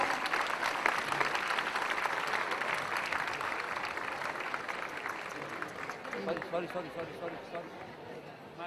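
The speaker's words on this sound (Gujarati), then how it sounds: "જોરદાર તાળીઓ વગાડશે બધા જ" Sustained audience applause at a school alumni celebration, dense clapping filling the hall at a steady level and tapering slightly toward the end, with voices faintly mixed in.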